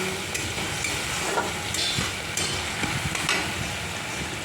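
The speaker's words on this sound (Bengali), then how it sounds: "মশলাটা অনেকটা কষানো হয়ে গেছে" A Bengali spice paste fries and is stirred in a pan, a steady close sizzle with repeated scraping knocks of the spoon, heard on its own.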